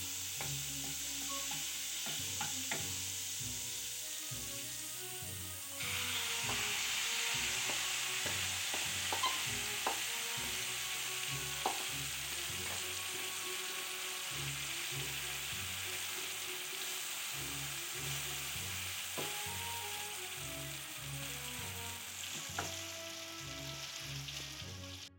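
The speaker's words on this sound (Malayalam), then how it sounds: "ഈ ഇറച്ചിയെല്ലാം നല്ല പൊരിഞ്ഞു വന്നിട്ടുണ്ട്" Chicken frying in butter in a hot pan for homemade butter chicken gives a steady, close sizzle throughout, with scrapes and clinks of stirring on top and no voices.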